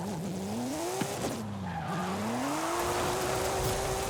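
A Porsche 911 GT3 RS drifts through a corner in Forza Horizon 5, with a steady engine tone and a continuous tyre squeal that rises and falls as the slide holds, loud and close with no talk.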